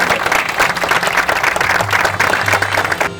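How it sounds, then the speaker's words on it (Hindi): Audience applause at an annual function celebration, a dense, steady wash of many hands clapping for about three seconds, loud and continuous, with faint voices mixed underneath. "एक बार जोरदार तालियां।"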